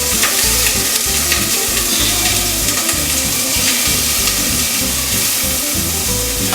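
Scallops laid into hot oil in a pan sear with a loud, dense, continuous sizzle and crackle that holds steady and close, no voices over it.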